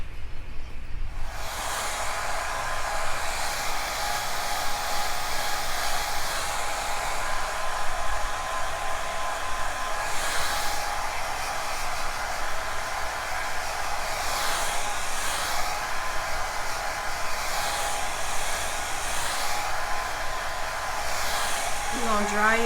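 A hair dryer blows steadily and loudly up close to dry wig glue, its airflow roaring without a break and wavering slightly as it is moved.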